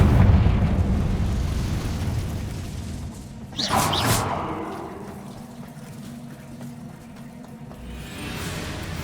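A fiery Confringo blast spell from the Hogwarts Legacy video game bursts sharply near the middle, a bright whooshing explosion over a steady low rumbling game ambience that lingers and fades afterward.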